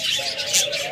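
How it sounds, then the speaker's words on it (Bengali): A pair of caged diamond doves, one red and one grey, coos and chirps softly in one brief, close call with no talking. "এখানে এক জোড়া ডায়মন্ড ঘুঘু রয়েছে ডিম সহ"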